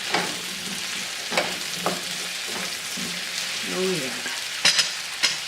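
Butter sizzling in olive oil in a pan while home-cooking a roast beef with carrots and potatoes, a steady fry with several spoon scrapes and stirs; a voice speaks briefly near the end.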